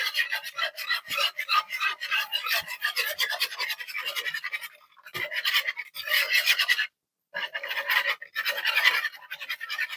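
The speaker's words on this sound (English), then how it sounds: "I'm just going to go ahead and whisk this up to combine everything." Whisk scraping steadily through ice cream cake ingredients mixed with warm water, a continuous close rasping with a few brief pauses and no talking.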